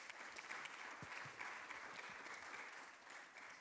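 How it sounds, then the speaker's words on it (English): Audience at a water operators' partnerships congress applauding a speaker, a steady wash of many hands clapping at moderate distance, even and sustained throughout with no talk over it. "Let's give him a big round of applause."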